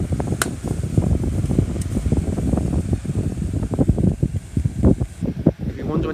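A 12-inch desk fan runs on high speed with a steady whooshing airflow, close to the microphone, with irregular fluttering bumps throughout.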